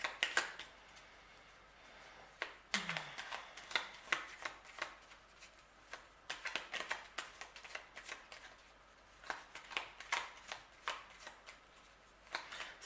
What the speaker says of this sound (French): on va tirer maintenant une carte conseil des accords Toltec pour clôturer